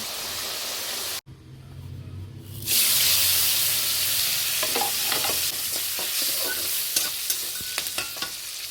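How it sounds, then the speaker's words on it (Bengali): Potatoes with turmeric and salt fry in hot oil for a Bengali vegetarian cabbage dish; a soft hiss breaks off abruptly, then a louder bright sizzle takes over with scattered scraping stirs and clinks. "তেল গরম হয়ে গেছে, আলুটা ভেজে নেব। হলুদ দিয়ে দিচ্ছি, লবণ দিয়ে দিচ্ছি, ভেজে তুলে নিচ্ছি।"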